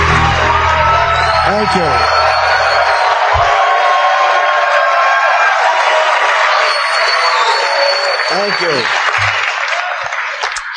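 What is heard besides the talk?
comedy club crowd cheering and applauding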